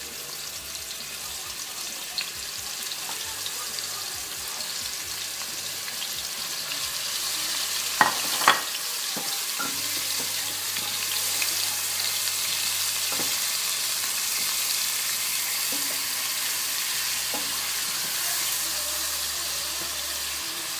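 Onion sizzling in hot oil with meat in a pot, stirred now and then, a steady close frying hiss with a few sharp clinks of the utensil against the pot.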